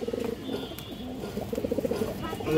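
A male high-flying Kaldam pigeon coos repeatedly, low burbling notes in rising and falling phrases that grow quicker toward the end, close and steady, with faint background bustle.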